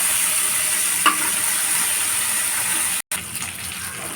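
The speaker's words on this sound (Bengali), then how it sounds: "তেল দিয়ে দিলাম মাছ ভুনা করার জন্য" Pangas fish frying in hot oil in a pan, a steady hiss and sizzle that runs evenly throughout with a brief stir, fairly loud and close.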